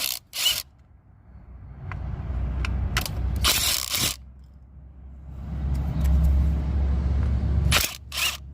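A 10 mm ratchet works coil pack bolts loose on a 2006 Toyota Tundra engine, with a few sharp clicking bursts and mechanical rattles close up between quieter stretches.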